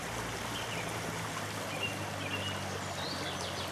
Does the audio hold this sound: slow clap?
no